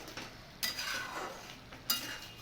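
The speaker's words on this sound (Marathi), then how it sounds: "आपण आता त्याच्यामध्ये एकसारखासा रवा ओतायचा आणि एका हाताने ढवळून घ्यायचं" A spoon stirs semolina into boiling water in a pot for Kolhapuri upma, giving soft scraping swirls with a few sharp metal clinks against the pan, fairly close and with no talking.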